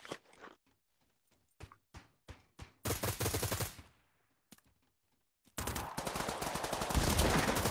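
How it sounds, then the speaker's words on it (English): Gunfire in the VR shooter Pavlov Shack, a series of sharp separate cracks followed by two dense bursts of rapid, loud shooting with short silences between them. "Shotgun."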